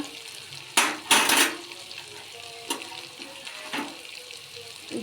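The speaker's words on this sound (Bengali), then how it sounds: "মশলাটা খুব ভালো করে কষে নেব" Spice paste of green chilli, garlic and ginger fries in a pan for a prawn and poppy seed dish, with a constant soft sizzle broken by a few louder bursts of stirring and scraping.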